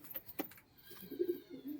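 Pigeons, including giribaz fancy flying pigeons, give soft, low cooing calls in a brief, quiet burst, with a faint rustle heard before the coos.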